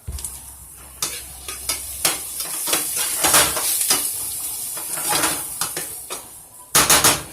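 Steak with garlic and seasoning sizzling in a pan for quesadilla tacos, a continuous close frying hiss broken by scraping and clinking of a utensil against the pan.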